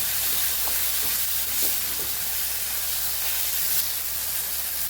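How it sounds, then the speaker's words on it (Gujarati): Garlic spice masala sizzles and hisses steadily in oil, with a little water added, in the same oil used to fry brinjal and potato; a continuous close frying noise with no talking. "મસાલાને આપણે સરસ સાતળી લેવાનું છે."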